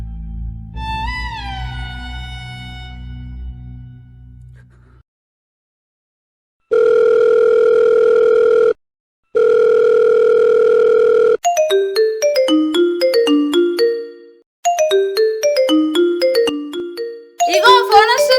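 A phone call is placed: two long, steady, loud electronic tones sound in succession, then a melodic ringtone of quick stepped notes repeats, with no voices.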